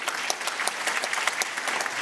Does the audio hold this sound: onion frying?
no